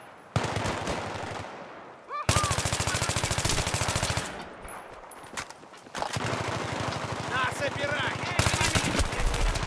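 Rapid bursts of automatic gunfire in Counter-Strike on the Grand Bazaar map, loud and close, with dense crackling volleys broken by brief lulls and a few sharper single shots.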